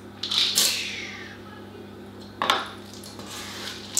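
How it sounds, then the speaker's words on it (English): Chocolate chips tipped into cookie dough in a bowl, heard as two short rattling, clattering bursts with a quiet pause between, close by. "I'm just going to add my chocolate chips."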